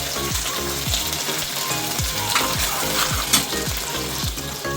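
Green chillies sizzle loudly in hot frying masala paste for dal makhani, a steady close crackle broken by a regular rhythm of spatula strokes scraping the pan.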